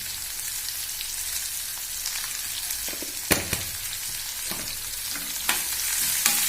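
Onions and carrots frying in a pan, stirred with a spoon; a steady sizzle runs throughout with a few sharp scraping knocks of the utensil against the pan, near and alone.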